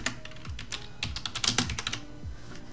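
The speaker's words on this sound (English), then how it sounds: "I'm going to type in white background" Quick, uneven bursts of keystrokes on a computer keyboard, close and clear, with brief pauses between runs of typing and no voices.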